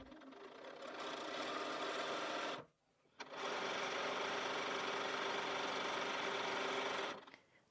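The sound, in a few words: sewing machine chain piecing quilt strips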